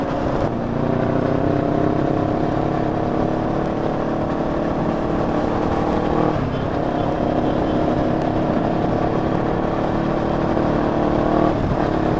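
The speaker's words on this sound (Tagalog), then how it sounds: "Angas na mga motor, sir." Several motorcycles, including BMW GS adventure bikes, ride together in a convoy along a North Luzon highway, their engines droning steadily and loudly throughout with a continuous tonal hum and slight pitch shifts as they cruise.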